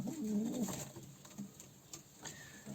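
A single pigeon coos softly near the start, a low warbling call over faint outdoor background noise, then fades into quiet ambience.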